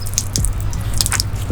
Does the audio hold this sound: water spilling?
yes